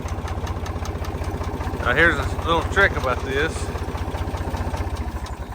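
A farm tractor engine idles with a steady, thumping low pulse that runs throughout, while someone talks over it close by.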